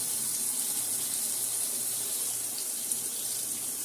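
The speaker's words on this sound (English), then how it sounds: "I'm going to go ahead and just rinse off the jar in hot water." Hot tap water runs steadily over a glass jar being rinsed in a sink, a close, even hiss that continues for the whole stretch with no talking.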